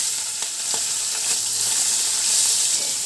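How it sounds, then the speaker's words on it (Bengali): Prawns fry in hot mustard oil in a kadai, giving a loud, steady sizzling hiss with a few scraping stir strokes near the start. "তেল গরম হয়ে গেছে, চিংড়ি মাছগুলো ভেজে নিচ্ছি।"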